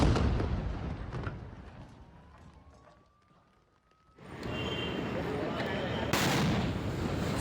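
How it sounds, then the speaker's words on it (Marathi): An ambulance explodes on a road in Jalgaon: after a fading murmur and a near-silent pause, a sudden loud blast bursts in and rolls into a sustained roar, with a second sharp burst soon after. "मोठा स्फोट हा ॲम्ब्युलन्सचा झालेला आहे"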